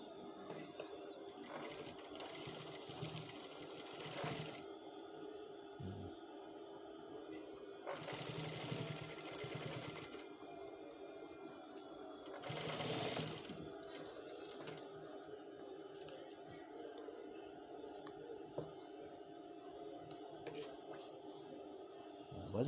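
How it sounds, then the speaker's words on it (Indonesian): Sewing machine stitching a men's trouser welt pocket, running in three bursts of steady whirring between quieter pauses, close and fairly loud. "Nih, baru kita jahit untuk menyatukan nih."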